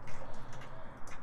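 Ratchet wrench with a 10 mm socket loosening small bolts on a BMW N52 engine intake manifold, a quick series of light, rhythmic ticking clicks close by.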